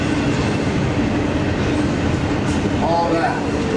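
Southern Pacific 1673 steam locomotive and a Union Pacific intermodal freight at the Tucson station, a steady loud rumble of rail traffic with a faint brief squeal near the end.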